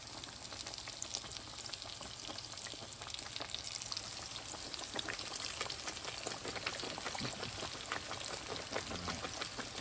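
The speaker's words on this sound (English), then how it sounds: "We'll go ahead and let these fry" Pork chops frying in a pan give a steady, dense sizzle with crackling pops throughout, constant and moderately quiet, no voices.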